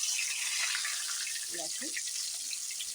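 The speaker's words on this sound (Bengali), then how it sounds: "এখন কড়াইতে একটু তেল বসিয়ে দিয়েছি আস্তে আস্তে মাছগুলো" Rohu fish frying in hot oil in a wok, a steady broadband sizzle with faint water-like crackle running evenly throughout, close and continuous.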